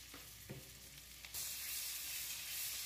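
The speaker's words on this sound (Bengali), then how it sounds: "এই মশলাটা ভালো করে কষিয়ে নিচ্ছি।" Spice paste of dried red chilli paste, tomato paste, a little turmeric and salt sizzles in a pan for prawn malaicurry, with soft scraping at first, then a loud, steady frying hiss that swells suddenly and holds.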